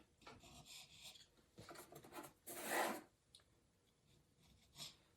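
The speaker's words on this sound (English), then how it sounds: "I use this little guy here, but screwdriver or any other device that you can kind of scrape that glue out." A small tool scrapes excess glue from the seams of a segmented wood-turning blank, making quiet, intermittent rasping strokes with one longer, stronger scrape near the middle.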